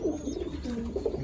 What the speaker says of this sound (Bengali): ফকিরকুল পায়রা এক জোড়া